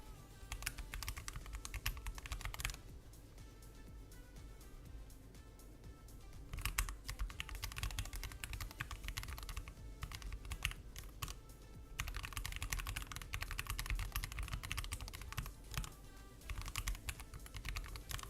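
A mechanical computer keyboard set on carpet is typed on steadily, a close, dense clatter of keystrokes that pauses briefly and resumes, with no talking.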